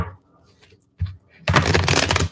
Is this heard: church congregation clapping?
no